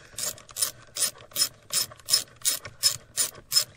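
Ratchet backing out small 5/16 sheet metal screws on a 2006 Chrysler Town and Country, about ten sharp, evenly spaced clicking bursts, close and loud with no talking.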